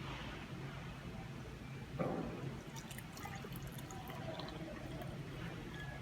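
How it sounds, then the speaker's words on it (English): Brewed coffee from a French press pours into a cup as a faint, steady liquid trickle that starts about a third of the way in and continues quietly to the end, with no talking. "then we'll pour it on the cup"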